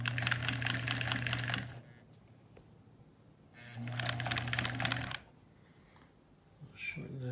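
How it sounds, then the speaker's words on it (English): A 1950s Singer 306K sewing machine runs a straight stitch in two steady mechanical bursts of rapid, even needle clatter, each lasting over a second, separated by a quiet pause and a brief final whir. "let's sew on it now. It's gonna be a little tricky one-handed, but I'll do my best. We'll do just a straight stitch first in a few different lengths"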